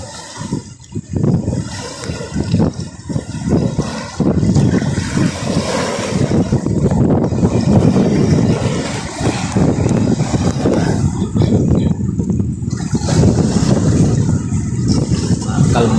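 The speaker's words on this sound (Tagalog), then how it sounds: "Malakas ng impact ng alon guys." Strong ocean waves pound the shore near a row of large seaside houses, a loud continuous roar of surf with heavy wind rumble that stays dense and unbroken throughout.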